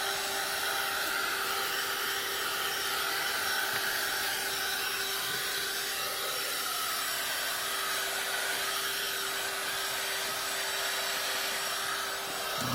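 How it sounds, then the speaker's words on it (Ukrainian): An Aspiring Dust 2 car vacuum cleaner runs close and loud, its motor whine and airflow rushing in one steady, unbroken drone with no talking. "З допомогою автомобільного пилососа аспірінг можна залізти в будь-яку щілину."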